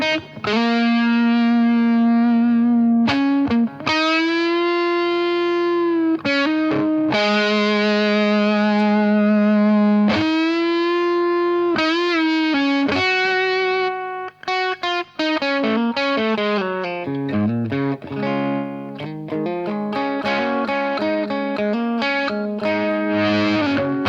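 A Fender Telecaster with single-coil pickups runs through a Fulltone '69 MkII fuzz pedal, playing loud, saturated sustained notes and chords with a buzzy, harmonically rich tone and rhythmic changes, with no talking.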